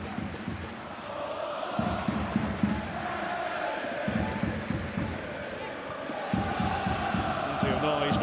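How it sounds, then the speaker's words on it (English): Football crowd noise from the cheering section of the east stand during a Motherwell versus Hearts match: a broad, distant roar of chanting and cheering that swells in waves, with a commentator talking over it. "Noise being generated in the cheering section over there in the east stand."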